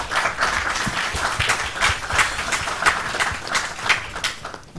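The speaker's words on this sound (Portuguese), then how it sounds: "queria também pedir uma salva de palmas a este painel." Conference audience applauding a panel at a green finance conference, steady dense clapping throughout at moderate loudness with no speech.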